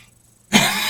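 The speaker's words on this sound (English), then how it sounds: "Excuse me. I'm coughing." A single loud, close cough bursts out after a half second of near silence, with a rough, sustained tail.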